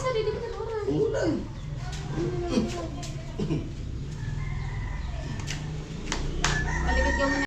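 A rooster crows around a Filipino family home, its calls rising over steady background noise while people talk nearby and children's voices drift in.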